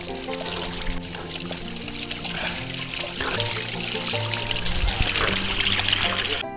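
Clean spring water trickling and pouring in the Konkan hills during the monsoon, a steady close splashing flow that grows slightly louder toward the end, with faint voices in the background.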